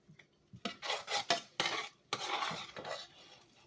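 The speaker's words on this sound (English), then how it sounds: "I'm going to dish up my mac and cheese" Mac and cheese being spooned out of a pot at home, with a run of close scraping, stirring and clinking strokes against the cookware, some short and sharp, others longer and smeared.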